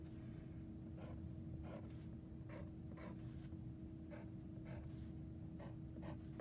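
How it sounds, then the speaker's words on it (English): Pencil drawing lines on paper for a sketch of Notre Dame columns, a series of soft, brief scratchy strokes repeating at a steady pace over a constant low hum, close and quiet. "And then I'm going to draw those lines,"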